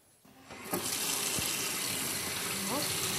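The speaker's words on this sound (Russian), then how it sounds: "теперь родниковая течет из крана" Spring water runs from a kitchen tap in a village home, a steady close gushing stream that starts after a brief quiet moment and continues evenly.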